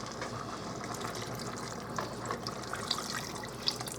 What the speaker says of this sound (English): I am going to add some of my turkey broth